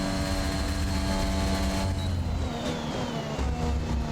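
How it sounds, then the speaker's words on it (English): Race cars roar around the track in the F1 21 game at the Spanish circuit, a constant engine drone with a high whine that shifts in pitch as a car passes, loud and unbroken with no talk. "Got some cars coming onto the track"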